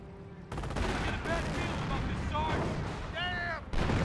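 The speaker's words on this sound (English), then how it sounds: "Sniper hitting that AT gun now." Gunfire from a sniper striking an anti-tank gun in the World War II strategy game Company of Heroes, steady battle noise with several sharp reports and whistling shell sounds, under an ongoing din of combat.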